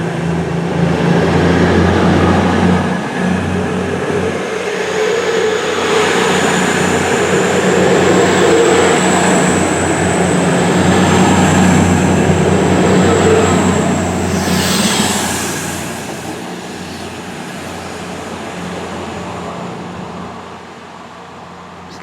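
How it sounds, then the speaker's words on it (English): Class 222 Meridian diesel train bound for London St Pancras International at Chesterfield, a loud sustained engine drone and rolling rumble building and holding, then easing as it passes away. "now it's Class 222 Meridian to London St Pancras International"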